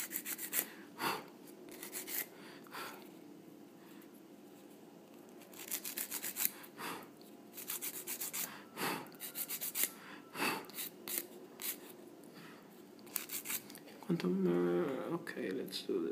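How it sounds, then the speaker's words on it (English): Scissors snip and rasp along the edges of a micro SIM card as it is trimmed down to nano size for an iPhone 5, with short repeated cutting and rubbing sounds close by, mixed with quiet handling noise. "So let's just trim it down a little more."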